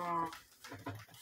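A puppy whimpers briefly in a Duck Tales video game, a few soft whining cries heard close up with no talk over them.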